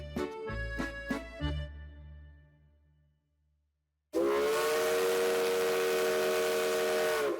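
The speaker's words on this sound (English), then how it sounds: "the whistle and hiss of the steam engines of the railroad" A steam locomotive's whistle sounds in a few sharp blasts that fade to near silence, then a loud, steady steam whistle and hiss comes in and holds.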